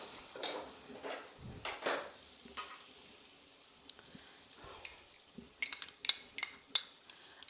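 Potatoes tipped into a pan of spices (coriander, black pepper, red chilli, salt, turmeric) for an egg-potato dish, then stirred: soft thuds and scrapes, a faint sizzle, and a burst of clinking utensil taps toward the end, fairly quiet.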